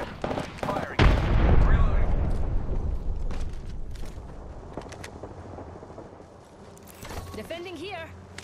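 A frag grenade goes off in Apex Legends with a heavy, close boom that rolls and rumbles for several seconds, followed by scattered gunfire and battle noise in the background.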